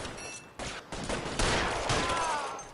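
Gunfire in the L.A. Noire video game, a rapid crackling volley of shots heard at moderate level, with no talk.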